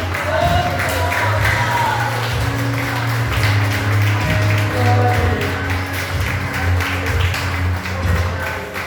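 A church congregation at a family worship service applauding, loud dense clapping and rhythmic taps over a sustained low musical drone and crowd noise, steady throughout.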